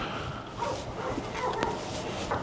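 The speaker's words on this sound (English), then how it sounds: "Okay, the dogs are barking now." Dogs barking at a house, heard as a few faint, distant yips and barks mixed into a steady background wash.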